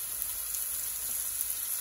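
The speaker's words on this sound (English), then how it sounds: "You want to fry the curry powder till it becomes nice and grainy." Curry powder fries with sautéed onions in a pot over the lowest heat, giving a steady, soft, close sizzle and crackle that hisses evenly throughout with no voices.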